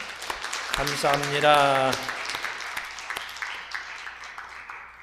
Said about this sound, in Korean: 영적 스승을 위해서 한번 박수로 감사 인사하시겠습니다.